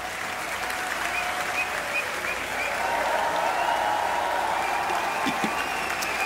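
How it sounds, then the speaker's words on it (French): A crowd applauds Fabrice Eboué with loud, dense clapping that holds steady and swells slightly midway, with no voices over it. "Faites un tonnerre d'applaudissements pour monsieur Fabrice Eboué"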